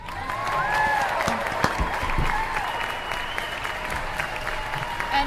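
A studio audience applauds on a talk show, with steady broadband clapping throughout, moderately loud and even, while voices briefly speak over it.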